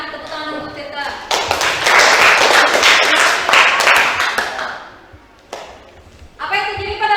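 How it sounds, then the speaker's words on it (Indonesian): Students in a classroom break into clapping for a classmate, a short loud burst of close hand claps between stretches of speech, then a few isolated claps before a voice resumes. "Sebelumnya tepuk tangan untuk Tirta."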